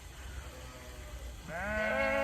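A sheep bleats once in a barn, a close, wavering call that starts partway through and holds to the end over a quiet low background hum.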